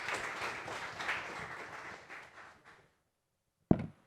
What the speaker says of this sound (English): let's give Secretary another round of applause